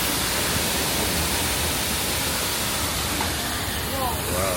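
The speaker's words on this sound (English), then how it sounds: "Yeah, waterfall." Waterfall seen from the Kuranda scenic train, a broad continuous rush of water blended with the train's rolling rumble, steady and loud throughout.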